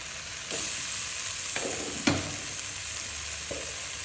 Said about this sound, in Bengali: ডালের সাথে টমেটো দিয়ে কষিয়ে নেব